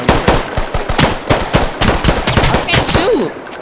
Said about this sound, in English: You really feel like you're in a shootout.